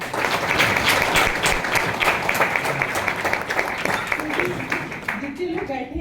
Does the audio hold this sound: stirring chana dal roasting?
no